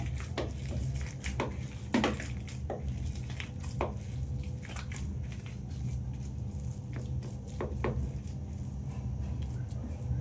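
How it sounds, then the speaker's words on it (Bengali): Chicken pieces being worked by hand into a gram flour batter tinted with orange food colouring, making soft wet squishing and squelching sounds with a few light clinks against the bowl, steady and close throughout. "দিয়ে আমি ভালো করে চিকেনের সাথে মাখিয়ে"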